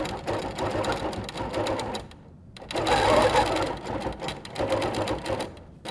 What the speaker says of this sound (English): I've just got really good visibility to be able to stitch very close to the edge and not get anything caught when I'm doing the applique